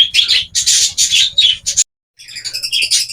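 Small birds chirp loudly and continuously up close, bursts of rapid tweeting and squeaky calls, with a brief silent gap midway.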